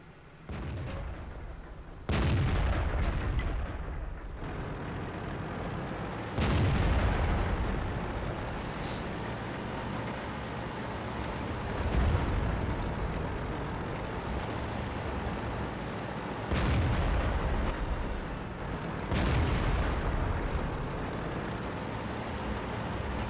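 Tank cannons firing in World of Tanks, a series of heavy booming shots spaced several seconds apart over a continuous rumbling engine and battlefield drone.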